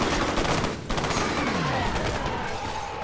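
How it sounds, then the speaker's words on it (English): Rapid, sustained gunfire in the shooter game F.E.A.R., with dense overlapping bursts that keep up a steady, loud barrage for the whole stretch. "Oh shit, we're shooting."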